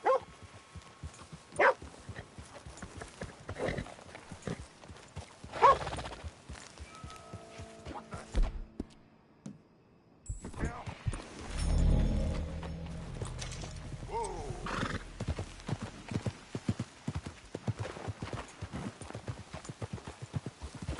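Horse hooves clip-clop in a PS4 video game, with irregular hoofbeats and clatter over faint game sounds and a brief lull in the middle.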